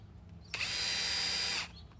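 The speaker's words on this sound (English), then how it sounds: "so I'm going to sink some screws in" A power drill drives a screw into a wooden railroad track tie in one steady, loud whirring burst of about a second, starting and stopping abruptly against quiet outdoor background.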